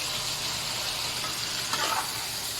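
Steady sizzling hiss of pork hitting a pan with garlic, onion and fried tofu, with a brief stirring scrape near the end.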